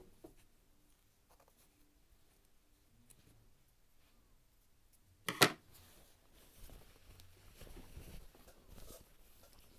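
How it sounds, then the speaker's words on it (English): Scissors trim loose sewing threads on a top-stitched knit neckband, a single short snip standing out mid-clip against near-silence, followed by faint handling rustles. "And then go ahead and trim all these threads."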